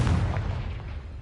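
Confringo fire-blast spell in a Harry Potter video game: a single deep, booming explosion that hits hard, then rumbles away, with no talk.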